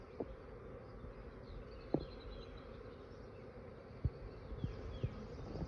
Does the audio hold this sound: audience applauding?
no